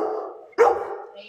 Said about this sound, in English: That sounds like a big dog.